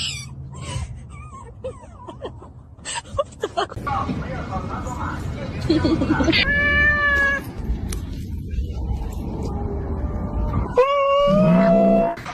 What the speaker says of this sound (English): Get the cat.